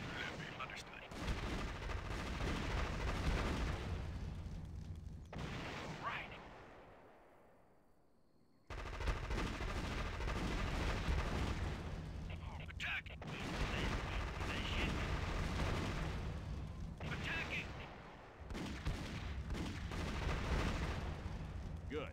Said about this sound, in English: If you attack with different units, you'll notice that each one fires with a different weapon